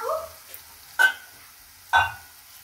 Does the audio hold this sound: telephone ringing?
no